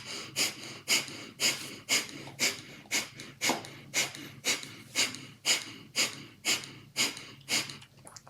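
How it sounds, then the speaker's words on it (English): Rapid, rhythmic breath-of-fire yoga breathing: about two forceful nasal exhalations per second pulse evenly and close up for several seconds, with no speech over them. "Continue with the breath of fire"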